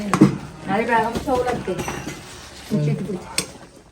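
A spoon scrapes and clinks against a bowl as mashed banana batter with salt is stirred, with irregular knocks and scraping strokes close by while someone talks over the sounds.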